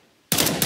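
A sudden loud burst of automatic gunfire from CS:GO training breaks a near silence and continues with rapid shots to the end.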